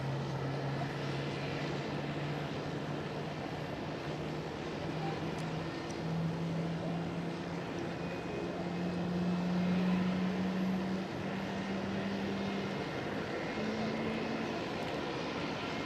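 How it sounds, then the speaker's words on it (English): A KLM Boeing 737 making a smoky touchdown at Schiphol Amsterdam, heard as a faint, distant, steady jet drone that rises slightly midway, with no clear speech. "Over there, KLM 737, smoky touchdown."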